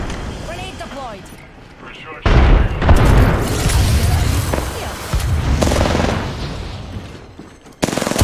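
A grenade explodes in the Apex Legends video game with a sudden loud, heavy boom. Dense, rumbling battle noise follows and sustains for several seconds before another sharp blast hits near the end.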